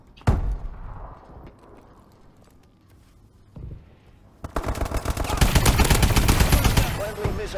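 The AE4 DLC weapon fires in a video game, with a few early shots and then a loud, sustained burst of rapid automatic fire over the last three seconds.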